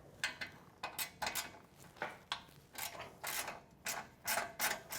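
A tool loosening the clamp that joins a muffler to a motorcycle head pipe for a Vance & Hines slip-on install, a series of soft rhythmic ratcheting rasps, close and fairly quiet, no talk.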